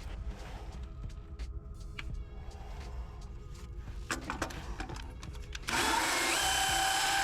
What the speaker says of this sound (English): now I'm gonna use a chipper and get rid of all the pebble and some of the concrete